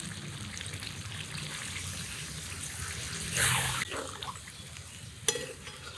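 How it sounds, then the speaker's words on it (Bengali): Frying chicken pieces for biryani crackle steadily until a splash of water from a bowl hits the hot pan, a brief loud hissing surge, then settles back to sizzling with a sharp clink. "ভাজা ভাজা হয়ে গেছে এখন অল্প জল দিই"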